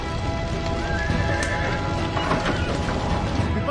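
Horses neighing loudly amid a rush of clopping hooves and clattering, with a prominent whinny near the middle, all close and continuous with no talking.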